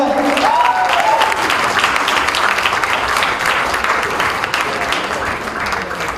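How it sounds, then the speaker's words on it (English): A large crowd applauding steadily and loudly as Ranbir Kapoor and Anushka Sharma are welcomed on stage, dense clapping sustained throughout, with a voice heard briefly at the start. "Give them a big round of applause."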